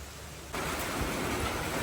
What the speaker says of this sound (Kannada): ಫುಲ್ ಜೋರ್ ಮಳೆ ಸ್ಟಾರ್ಟ್ ಆಯಿತು